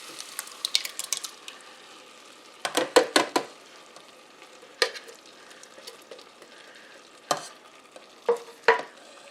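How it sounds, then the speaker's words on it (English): Two 28-ounce cans of crushed tomatoes stirred into a pot for creamy tomato soup, heard as a run of wet scraping spoon strokes in short bursts separated by quiet pauses. "now I'm going to add 2 cans, 28-ounce cans of crushed tomatoes"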